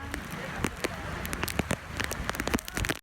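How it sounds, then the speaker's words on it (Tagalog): Rain begins falling during an island-hopping boat tour at Twin Lagoon, Coron, in the Philippines: scattered, crackling drops patter on surfaces nearby, irregular and close, mixed with people talking. "Ayan na yung ulan."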